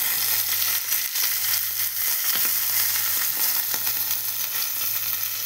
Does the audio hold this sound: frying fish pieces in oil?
yes